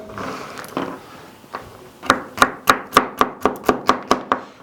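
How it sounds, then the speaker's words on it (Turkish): A knife chops walnuts rapidly on a cutting board, a few scattered cuts followed by a steady run of about ten sharp, close knocks. "Cevizleri bıçak yardımıyla birazcık küçülteceğiz."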